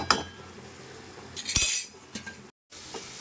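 A lid set over a cooking pot of palong shak, spinach cooked as a vegetarian dish, gives a metallic clink and rattle midway, after light scraping and stirring clinks, with a short silent gap near the end.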